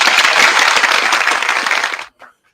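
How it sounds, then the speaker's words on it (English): Audience applause at a talk on Black history, a dense, loud burst of clapping that holds steady for about two seconds and then cuts off abruptly. "Clap it up for that"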